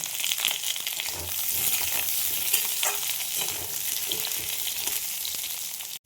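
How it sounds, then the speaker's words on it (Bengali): Cut potatoes frying in hot oil with cumin seeds, giving a steady, dense sizzle that stays loud and close, with occasional stirring scrapes in the pan until it cuts off abruptly at the end. "আলুগুলো এবার ভেজে নেব"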